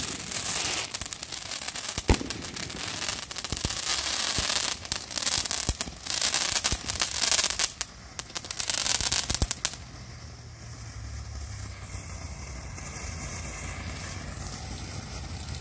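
Fourth of July fireworks blast and crackle up close, a loud rapid string of bangs and sizzling bursts for about ten seconds before fading to a quieter, windy hiss.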